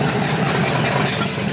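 A Porsche 911 with a swapped LS3 V8, freshly revived after blowing up, idles loud and close with a steady, rough rumble that never lets up across the brief moment.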